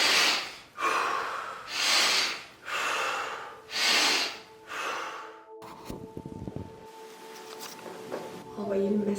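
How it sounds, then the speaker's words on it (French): Deep, forceful inhale-exhale cycles of Wim Hof method breathing before an extreme ice bath, four loud rhythmic breaths close to the mic, then quieter rustling and faint tones. "On inspire fort."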